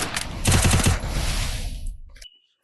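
Rapid bursts of UMP submachine gun fire in the Free Fire battle game, a dense loud rattle for about two seconds that cuts off abruptly into near silence with a faint high tone.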